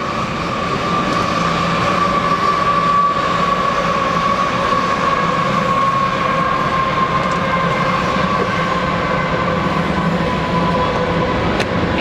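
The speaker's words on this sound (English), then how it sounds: "Oh, train coming through." A train rumbles past at close range, a steady heavy roar with a faint tonal squeal running through it and no talking.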